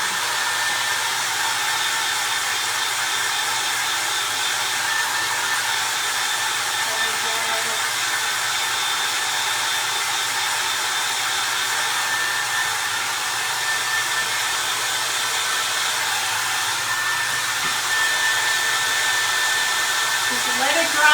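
A hair dryer blows steady heat onto a vintage wooden Christmas tree craft, a loud, even whoosh that runs unbroken from start to end with no talking over it.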